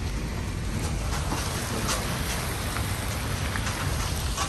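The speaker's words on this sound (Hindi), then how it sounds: "जबरदस्त बारिश में" Heavy rain pours steadily on a trail near a large river, a dense, constant hiss of drops hitting surfaces with no pauses and no voices.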